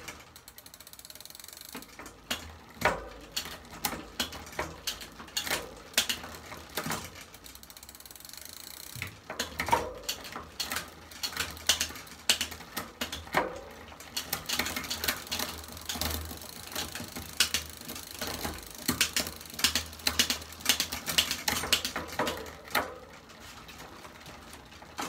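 Mongoose ALX bicycle drivetrain clicking as the derailleur shifts through the gears, with a steady ticking ratchet of the freewheel and repeated sharp clicks and chain clatter, close and moderately loud, no talk.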